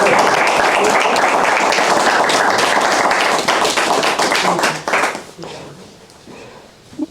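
An audience bursts into sustained applause after a speaker's introduction at a lecture course, loud dense clapping lasting about five seconds before tapering off into scattered claps.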